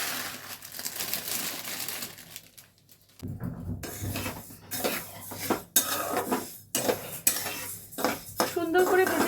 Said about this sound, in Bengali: এই 300 গ্রাম ডালটা আমি এখানে ভেজে নেব